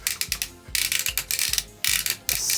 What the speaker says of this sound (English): satisfying ratchet joints